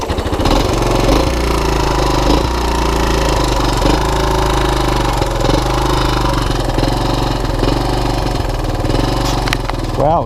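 A 1987 Honda TRX125 ATV engine running steadily after being started, a loud continuous small-engine chug with slight revving variations throughout.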